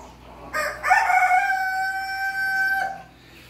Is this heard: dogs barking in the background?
no